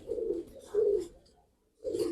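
Pigeons coo in three low, throaty bursts with a short pause before the last, close and fairly quiet, with no other sounds.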